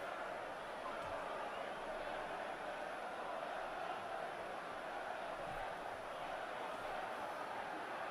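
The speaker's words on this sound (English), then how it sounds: "Let's get the crowd noise back on." Stadium crowd noise at a Women's Super League football match between Tottenham Hotspur Women and Chelsea Women, a steady, diffuse roar of spectators holding at an even level throughout.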